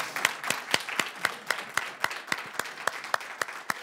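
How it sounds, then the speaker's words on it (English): A small audience at a skills strategy event gives a quiet round of applause, with sparse, fairly evenly spaced hand claps standing out from a soft background. "I think she deserves a fabulous round of applause."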